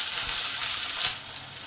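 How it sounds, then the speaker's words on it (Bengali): Potatoes fry in hot oil in a pan with a bright, loud hiss of sizzling that softens somewhat toward the end. No voices are heard. "আলুগুলোকে ভেজে নেব।"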